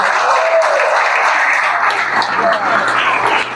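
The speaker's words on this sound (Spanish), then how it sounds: "para todos ellos, un fuerte y merecido aplauso" A crowd at an automotive gathering in Barranquilla gives loud, sustained applause with continuous dense clapping, and voices can be heard within it.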